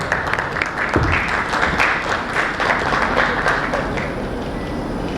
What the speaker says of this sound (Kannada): ನಿಮ್ಮೆಲ್ಲರ ಪ್ರೀತಿಯ ಚಪ್ಪಾಳೆಯೊಂದಿಗೆ ಸ್ವಾಗತಿಸಿ ಘಟ್ಟ ಶಬೀರ್ ಸರ್